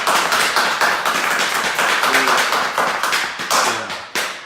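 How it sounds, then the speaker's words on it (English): An audience applauds at a public talk, producing loud, close, dense clapping that rises and falls in steady waves throughout. "Let's do one more round of applause to them."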